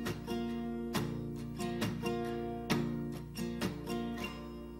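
Steel-string acoustic guitar strummed with the palm resting lightly on the strings, giving a steady rhythm of short, dampened chord strokes with soft percussive attacks, played alone at a moderate level.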